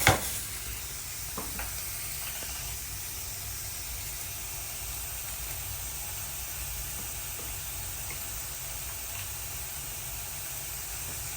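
Garlic sizzles steadily in a hot pan, a constant close hiss with a small clink at the start and occasional stirring scrapes.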